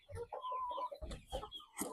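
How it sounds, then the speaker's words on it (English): Local hens on a small farm in Uganda cluck nearby, a few short throaty calls and murmurs in quick succession, fairly close and clear. "over here, we have the big hens. These are local"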